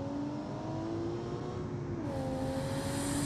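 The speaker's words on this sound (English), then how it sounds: "Listen to the boost." Turbocharged car engine in a driving video game, a sustained whistling whine of boost over a steady engine hum, rising in pitch near the end, loud and continuous with no talking.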